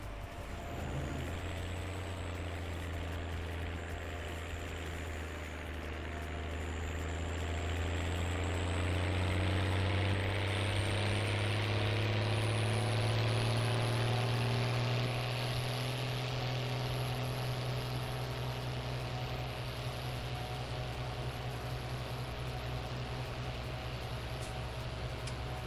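A farm tractor engine idles on a field, a steady, close, low mechanical drone with layered hum that swells slightly partway through and holds evenly, with no talking.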